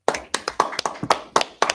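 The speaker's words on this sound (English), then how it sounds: "Most time, clap it up." A congregation at a Sabbath service claps in a brisk, somewhat uneven rhythm, about nine distinct sharp claps close by with no talk over them.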